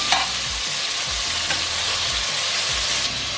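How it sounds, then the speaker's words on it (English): Pork neck sears in a hot pan for an Irish stew with a steady, close sizzle, while a utensil stirs it in several scraping, thumping strokes spaced about every half second. No one talks. "Now I'm going to give it a stir and do the other side."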